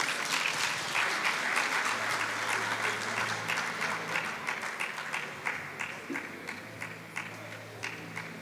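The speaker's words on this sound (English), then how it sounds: "We can give them a round of applause," Audience applause at a national oral history conference, a sustained wash of many hands clapping that carries steadily through the whole stretch before slowly thinning toward the end, with a faint voice briefly audible underneath.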